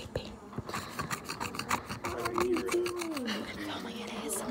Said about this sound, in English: I'm gonna be doing some paint scraping.